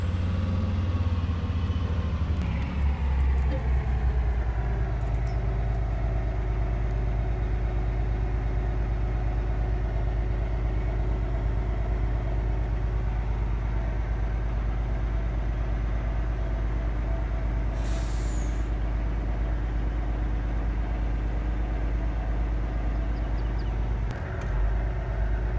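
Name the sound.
grain truck backing up, Farming Simulator 22 video game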